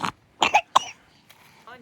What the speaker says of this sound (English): there's a bunch of coughing going on